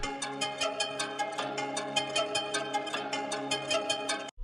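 Dark keys sample from a Kontakt preset pitched down five semitones, playing a steady rhythmic pattern of repeated chordal notes with soft percussive attacks, even and moderately quiet.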